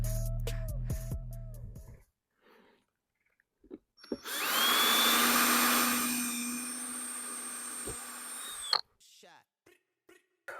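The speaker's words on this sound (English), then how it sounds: "So we're going to come in here, drill 2 holes" A power drill boring into the hull of a Ranger Z 20 boat during back-well repair, one sustained whine of about four seconds rising and settling before stopping, with clicks and handling noises around it.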